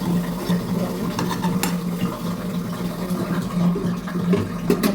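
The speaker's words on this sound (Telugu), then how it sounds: "బాగా మిక్స్ చేసుకోవాలండి" A spoon scraping and stirring through a thick okra curry in a pan, repeated clinks and scrapes over a soft background sizzle.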